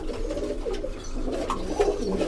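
Pigeons in a breeding loft coo steadily in a low, continuous murmur from several birds at once, a dense warbling chorus with no voices over it.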